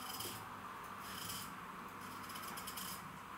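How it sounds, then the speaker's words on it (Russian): A knife slicing a large potato lengthwise into slices, giving a continuous close rasping, rubbing cut with a few brief stronger strokes. "Если крупная, мы ее режем вдоль и потом вот такими"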